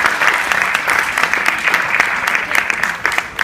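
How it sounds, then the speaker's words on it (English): A dense, sustained round of applause from a seated audience after a motivational speech, loud and continuous throughout with no voices over it. "Everyone, once again, another round of applause."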